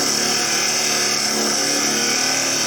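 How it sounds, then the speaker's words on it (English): A wood-turning chisel cuts into a rounded workpiece spinning on a lathe, parting the lid from the base of a turned gift, giving a steady close scraping hiss over the lathe's running hum with no pauses. "Doing most of that with this chisel."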